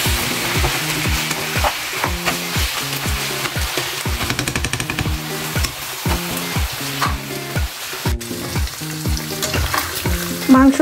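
Beef pieces, trimmed of fat, frying in a pan for curry, with a steady loud sizzle broken by regular rhythmic scraping and stirring strokes throughout, no voices.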